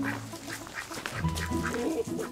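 Several ducks quack repeatedly on a farm in the evening, where four ducks are kept alongside various chicken breeds; the calls are fairly close and overlap in bursts.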